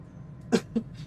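Two short coughs come close to the microphone, then a softer third. The room is otherwise quiet.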